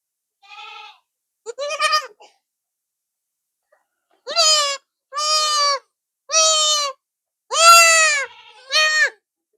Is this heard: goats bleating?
yes